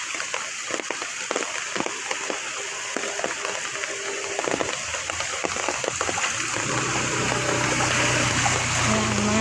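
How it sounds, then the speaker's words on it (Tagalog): Floodwater pours across a road and collects toward a bridge during a typhoon, a steady rushing wash with splashes that grows louder toward the end. "yung tubig ay dumadaan mismo sa kalsada at naiipon papunta dito sa bridge"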